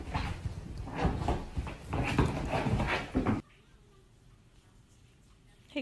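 A dog whimpers and makes small vocal sounds over a busy, noisy stretch of background, then the sound cuts to near quiet.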